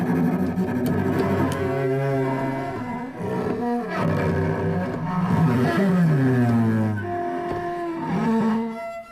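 Raw, unpolished cello noises from a sampling library, harsh bowed groans and sliding low tones that swell and bend irregularly, loud and alone without any talking.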